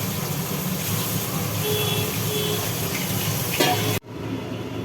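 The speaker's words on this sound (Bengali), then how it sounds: "ভাজার কাজ চলছে" Hilsa fish frying in a pan for mustard hilsa curry, a steady loud sizzle running throughout, with a brief faint clatter just before the sound cuts off abruptly near the end.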